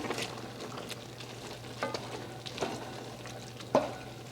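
Leafy greens wilting in a hot pan sizzle steadily while a utensil stirs them, with a few soft scrapes and knocks against the pan, close by and moderately quiet.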